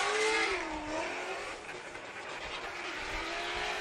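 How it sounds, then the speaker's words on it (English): A Formula Drift Ford Mustang on Falcon tires runs the course in Texas qualifying, its engine heard from a distance with wavering, uneven revs that sag and recover, faint under crowd and track ambience. "You can hear him kind of sputtering there into that final clipping point."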